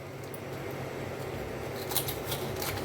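A knife slices into a large head of cabbage, a steady close crunching and scraping with a few brighter crisp cuts toward the end, quiet and alone.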